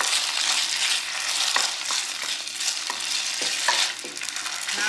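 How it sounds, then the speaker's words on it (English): Beef stir-frying in very hot oil for a vegetable stir fry, a loud continuous sizzle up close with repeated scraping and tossing strokes of a spatula, no voices. "we want our oil to be really, really hot. And now we're gonna cook the beef."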